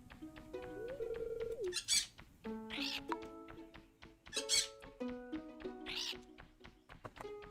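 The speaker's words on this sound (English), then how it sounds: "Why are there parrots flying around on our..." Parrots in the Stardew Valley video game give repeated bright squawks and calls over a beeping electronic game soundtrack, several short raspy cries spaced across the passage, fairly loud and close.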